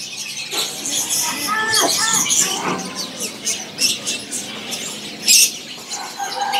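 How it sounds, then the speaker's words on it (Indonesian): Lovebirds give sharp, scattered squawks and chirps at a bird seller's stall, some loud and near, mixed with softer chatter and a voice talking between the calls. "di sini ada yang namanya burung lovebird ya"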